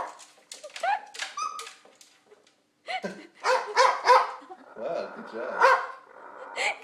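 A bird imitates a dog, giving a series of short yappy barks and whimpering yips at close range, mixed with a person's brief praise.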